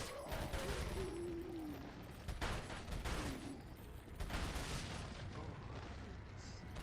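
TMP submachine gun fire in Resident Evil 4, a dense, continuous rattle of rapid shots that fills the whole stretch at steady loudness, with a few short louder bursts and no talk over it.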